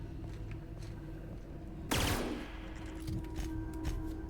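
A light machine gun fires in the video game The Outer Worlds, starting as a sudden loud burst partway through and carrying on as rapid, dense shots over a steady game background hum, with no talking.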